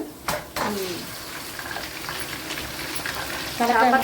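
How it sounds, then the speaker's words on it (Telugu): Fish pieces drop into a pan of frying onions and green chillies with a few sharp splashes and thuds, followed by a steady hiss of frying and a louder bubbling sizzle toward the end. "ఇక చేప ముక్కలు వేసేస్తున్నాను"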